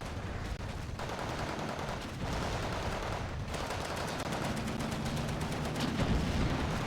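Battle gunfire in the World War II strategy game Steel Division 2, with half-tracks firing in a town fight: dense, continuous machine-gun and rifle bursts with heavier thuds, loud and unbroken, rattling faster toward the end.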